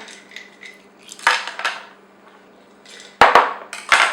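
Hard clinking and clattering of ice cubes dropped into a blender container for a green smoothie, in a few separate bursts with quiet gaps between, close by.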